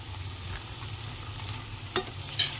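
Soaked chana dal stirred in a hot pan, giving a steady low sizzle with soft scraping and a few sharper clinks of the spoon against the pan, close and fairly quiet with no talking.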